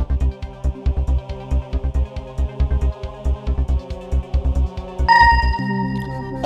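In the 2006 Who Wants To Be A Millionaire pub quiz video game, a steady pulsing rhythmic beat gives way to a loud, sustained electronic ringing tone as the phone-a-friend call connects. No speech.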